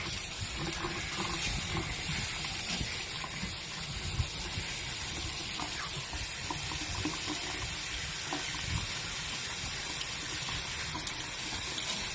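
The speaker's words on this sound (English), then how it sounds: "So I'm going to go ahead and drain them, and I'm going to rinse them out really well." Running tap water pours steadily into a sink as nopales are rinsed, a continuous close, fairly loud gush and splash with no speech.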